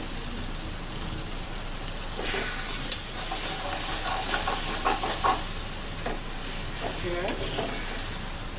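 Egg stirred and frying in a pan with pumpkin scraps, a steady hiss of sizzling oil broken by repeated scraping stir strokes, close and alone without talk.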